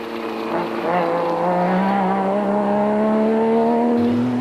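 A South African Nissan Navara rally truck races through a 2006 desert rally stage, its engine note climbing steadily in pitch under hard acceleration, loud and close throughout with continuous roar and no talk.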